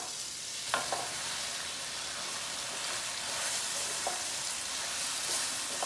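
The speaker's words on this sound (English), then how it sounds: "Let me stir it." Eggplant curry frying and being stirred in a pan, a steady hiss with a few scrapes of the spoon, fairly faint and with no talking.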